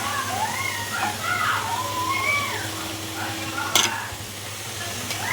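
A spoon stirs vermicelli and sago milk payasam in a pan with a steady scraping swish over a soft simmering sizzle. Meow-like tones rise above it, and a sharp clink lands near the end.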